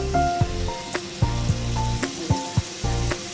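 Mustard paste water poured into a hot pan, giving a loud continuous sizzle with steady frying hiss and sharp clicks of a utensil against the pan at irregular intervals.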